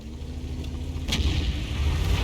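A tank gun fires a premium HESH round in a tank video game, producing one heavy boom that cuts through a constant low engine rumble.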